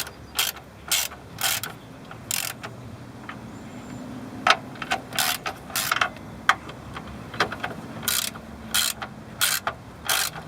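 A ratchet with a 13mm socket tightens sway bar bushing bolts on a car, giving short bursts of rapid clicking that stop and start in an uneven rhythm, close up with no talking.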